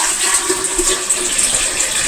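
A toilet bowl is emptied by pouring in water during bathroom cleaning, giving a steady close rushing, gurgling wash of water that runs through without pause.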